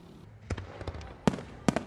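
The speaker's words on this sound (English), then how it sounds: "The fireworks was spectacular." Several sharp explosive bangs pop out of a quiet background, two of them loud and booming, with smaller cracks scattered between, like fireworks going off at a distance, at an event in Blue Ash, Ohio.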